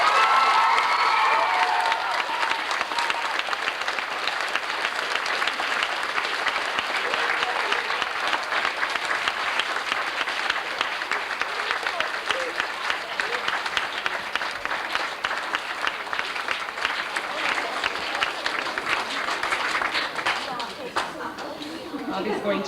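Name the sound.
audience applause for a school award winner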